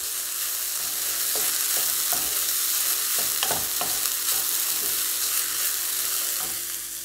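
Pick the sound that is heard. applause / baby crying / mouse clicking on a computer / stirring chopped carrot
stirring chopped carrot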